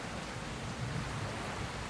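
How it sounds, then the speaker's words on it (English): Pouring rain at a remote castaway wilderness spot, a steady, dense wash of noise that holds even and unbroken with no voices over it. "not in the pouring rain"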